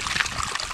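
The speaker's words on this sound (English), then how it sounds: "I'm sure you can hear the water." Steady, gentle water trickling and bubbling in a small hand-dug outdoor stream, heard close and alone without talk.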